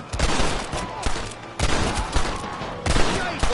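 Bursts of rapid gunfire crackle during a raft chase in the Red Dead Redemption video game, dense overlapping shots in three loud clusters with short gaps between them.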